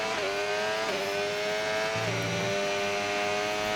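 A race car lapping on medium tyres at a Texas circuit, its engine held at a high, steady whine with two brief dips as the driver shifts or lifts, heard close and continuous with no talk.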